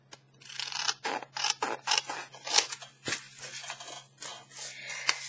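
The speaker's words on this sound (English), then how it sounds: "And this time I'm going to cut off the bottom." Scissors cut across the bottom of a paper card, a quick series of close, crisp snipping crunches in an uneven rhythm over a faint steady hum.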